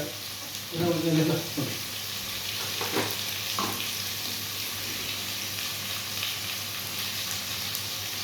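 Onions sizzling and frying in a pan with salt added, a steady crackling hiss throughout, with a few stirring scrapes and clatters near the start; close and continuous, no one talking.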